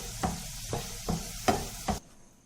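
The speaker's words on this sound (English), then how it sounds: "Fry the garlic until it changes its color." Garlic frying in a pan for chutney, a soft sizzle broken by four or five spatula scrapes in even rhythm, quiet and close, ending abruptly.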